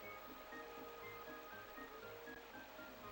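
A waterfall in the Hercules: The Legendary Journeys video game gives off a steady, low rushing hiss, faint and even throughout, with no voices over it.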